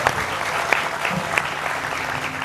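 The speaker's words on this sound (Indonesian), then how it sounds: "Kita kasih tepuk tangan dulu buat Riko dan Sabto." Studio audience on an Indonesian TV talk show applauds two young guests, Riko and Sabto: a steady, dense wash of clapping with a few sharper claps standing out, held at even loudness for the whole stretch.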